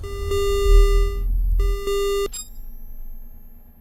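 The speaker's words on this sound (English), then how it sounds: "I know the alarm turns itself right back off real quick" A spacecraft alarm in the game Ostranauts sounds as steady electronic beeps, two long loud tones separated by a short gap, then a fainter, higher tone over a low mechanical hum, with no talking.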